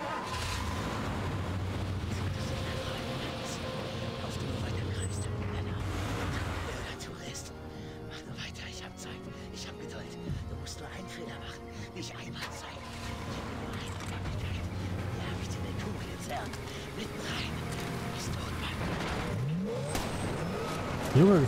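Rusty car engine in the video game Far Cry 2, a steady loud motor drone with revving and driving noise running throughout, with a player talking over it.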